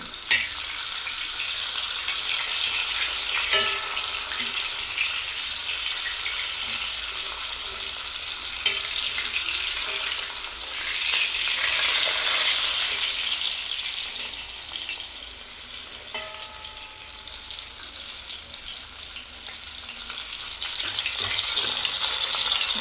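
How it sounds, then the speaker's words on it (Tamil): Fish frying in oil on a dosa griddle over a village fire, a steady loud sizzle with occasional stirring and spatter throughout, no talking. "மீனை வடச்சட்டியில் போட்டு பொரிக்கிறத விட தோசைக்கல்லில் போட்டு நம்ம பொரித்து சாப்பிட்டோம்னா"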